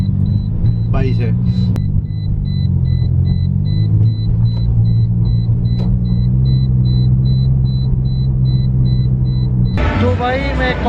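Inside a taxi riding through Bangkok, a steady low engine and road rumble continues throughout, with brief voices near the start and a burst of louder speech and noise at the end.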